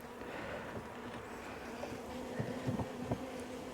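Honey bees around a hive and nucleus box during queen caging before varroa treatment give a faint, steady buzzing hum, with a few louder passes of individual bees near the end.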